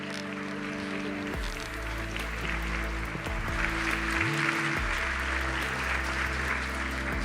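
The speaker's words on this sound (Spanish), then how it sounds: "ese aplauso para Jorge Olcina" An audience applauds at a conference for speaker Jorge Olcina: sustained, dense clapping that holds steady throughout, with a low tonal hum beneath it and no clear talking.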